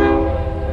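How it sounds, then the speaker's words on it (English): A loud train horn sounds close and sustained, a single continuous blast that holds steady before easing slightly toward the end. "But here's your train."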